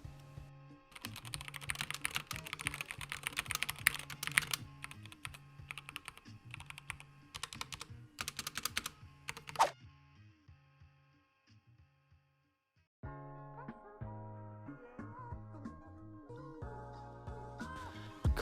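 Typing on a SteelSeries gaming keyboard, a dense run of clicking keystrokes that pauses briefly near the middle before lighter, sparser tapping resumes, close and alone.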